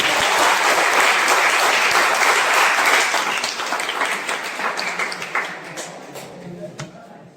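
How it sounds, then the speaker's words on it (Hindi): A hall full of students at a fresher's party claps together, the dense applause loud and steady at first, then thinning and fading over several seconds. "और एक बार अपने लिए तालियां बजाइए"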